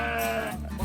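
A Himalayan sheep, a breed kept for high-quality wool, gives one close, loud, wavering bleat.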